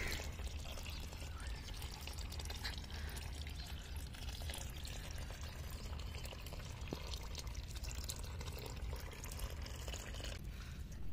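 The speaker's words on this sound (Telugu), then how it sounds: "డ్రైనేజ్ సిస్టమ్ అయితే చెక్ చేసుకుంటున్నానండి, వాటర్ బయటికి పోతుందా లేదా అన్నది" Water drains out of garden plant pots and tubs, a continuous soft trickling and pouring with scattered drips, close and fairly quiet, running steadily for about eleven seconds with no talking.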